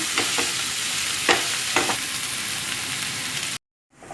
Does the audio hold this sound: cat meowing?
no